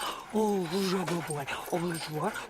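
A puppy in a radio advertisement whimpers and yips in a series of short, rising-and-falling cries, fairly close and moderately quiet, with no talk over it.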